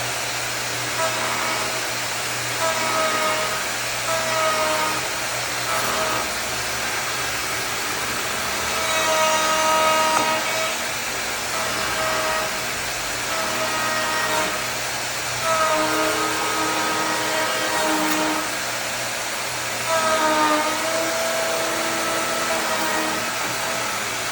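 A power tool makes a gentle climbing cut along picture frame wood, a steady loud whine with the pitch rising and falling in several passes over a constant motor hum.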